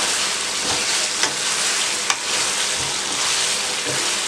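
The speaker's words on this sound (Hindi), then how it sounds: "चम्मच अब आपने मुसलसल चलानी है और सबको मूव करना है" Chicken tikka fries over medium heat in a pan while a spoon keeps it moving, making a dense loud sizzle with a few sharp clinks of the spoon, close and steady.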